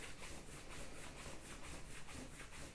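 Hands rubbing briskly over the body during a self-massage, a soft close swishing friction in quick, even back-and-forth strokes.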